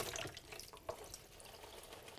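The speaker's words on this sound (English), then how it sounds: "I'm just swishing it around in the water to rinse it." Kale being rinsed by hand, swished around in a basin of water at a sink, gives a continuous close splashing and sloshing with small drips, steady throughout with no talking.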